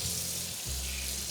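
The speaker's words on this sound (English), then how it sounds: "I'm gonna wash my brush and all my painting stuff" Running water rinses a glaze brush and other pottery painting tools in a ceramics studio, giving a steady, close hiss with a low hum underneath and no talking.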